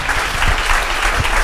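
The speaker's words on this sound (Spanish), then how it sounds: "Un aplauso enorme y cálido para ellos, para todos vosotros por estar aquí." Brief burst of warm audience applause at a Spanish science talk, loud and dense, with rapid clapping filling the short stretch evenly.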